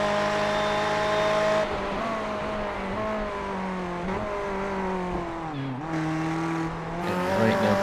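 Radical and GTE race cars circle a track in a warm-up race, with a steady engine drone that shifts pitch with gear changes and passing cars, fairly distant and continuous.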